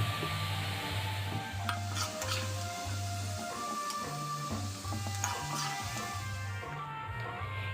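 Okra frying in oil for chicken dum biryani makes a continuous soft sizzle, broken by repeated rhythmic scraping and clicking of a spatula against the pan, with no voices.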